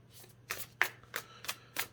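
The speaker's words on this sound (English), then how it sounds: "Oh, they said stop shuffling." Tarot cards being shuffled by hand in a series of five or six short, crisp riffling bursts at roughly even intervals, close and fairly quiet against a low background hum.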